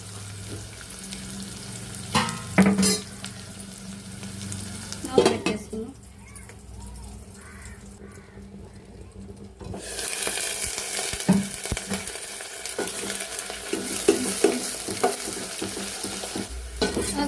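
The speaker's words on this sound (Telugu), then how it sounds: "మొత్తం బాగా ఫ్రై అయ్యేంత వరకు అయితే పెట్టుకున్నాను" Onions and green chillies frying in a pan for chicken curry, with steady sizzling, bursts of stirring and utensils scraping the pan close by, the sizzle growing louder in the second half.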